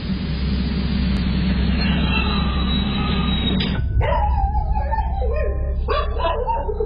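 A dog barks and yips uncontrollably on a home pet camera, starting after a few seconds of low hum with rapid, excited barks and whining howls, close and loud.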